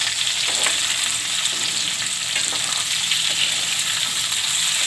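Onion and capsicum fry in oil for a potato-capsicum shaak, giving a steady, dense sizzle with faint crackles throughout, close and continuous with no voices.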